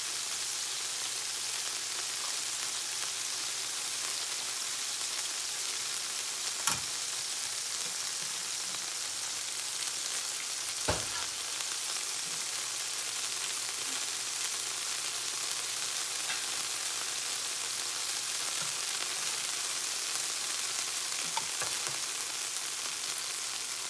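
Birria broth sizzling and frying in a pan, a steady soft hiss with a few sharp pops standing out, close and continuous with no talking.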